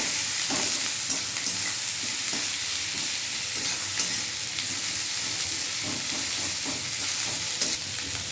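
Chopped onions fry in a pan for an egg and paneer dish, giving a steady, close sizzle broken by scattered spatula scrapes and stirring clicks throughout.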